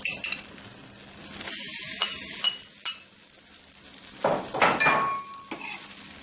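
Chicken luncheon meat sizzles and fries in a pan, stirred with a utensil that gives occasional scrapes and clinks, close and steady for several seconds with no talking.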